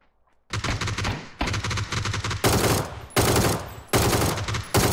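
Bursts of automatic gunfire from the battle royale game PUBG, several loud rapid volleys separated by short pauses, close and dominant with no talk over them.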